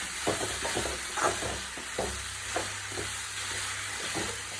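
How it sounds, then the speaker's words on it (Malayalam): Turmeric powder stirred into food frying in a pan, with a steady low sizzle and soft, irregular scraping strokes of a spoon repeating every second or so. "മഞ്ഞപ്പൊടി ഇട്ട് നല്ലോണം ഇളക്കിയിട്ട് ഒന്ന് ഇളകി വരുമ്പോൾ"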